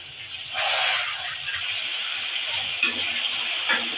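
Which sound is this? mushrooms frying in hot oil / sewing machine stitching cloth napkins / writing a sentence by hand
mushrooms frying in hot oil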